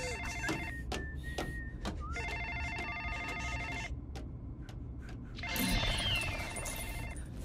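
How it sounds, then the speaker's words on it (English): Telephone ringing in the LEGO Jurassic Park video game's visitor centre, several repeated electronic trilling bursts separated by pauses, with faint background sounds and light effects underneath. "Mr. Hammond, the phones are working."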